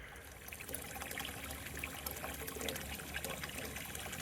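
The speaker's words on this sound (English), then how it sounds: "oh, we're just pumping the water out." Pump draining water out of a houseboat in low-water conditions: a continuous trickling, splashing flow of water, moderately close and steady throughout, with no voices.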